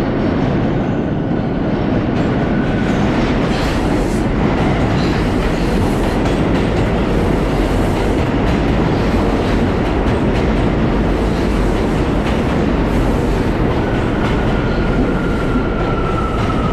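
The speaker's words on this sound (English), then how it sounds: "Here's a train coming" A New York City subway J/Z train rumbles loudly and continuously as it arrives at Chambers Street station, wheels clattering on the rails, with a thin metallic squeal near the beginning and again toward the end.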